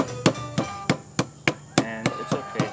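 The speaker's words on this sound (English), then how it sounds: "You can actually just put some plastic over this and hammer it flat." A heavy frying pan pounds food flat under plastic, about nine sharp thuds in a steady, fairly close rhythm with no talk.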